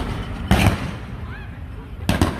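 Two sharp, loud bursts, like explosions or pops, about a second and a half apart, from a burning electric car battery exploding, over a rushing background roar.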